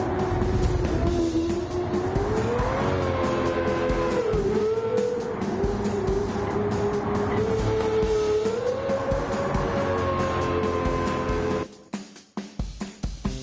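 A Lamborghini races in the video game Gran Turismo 7, its engine holding a loud, steady whine that rises and falls through gear changes, with tire squeal over it, then cutting off abruptly near the end.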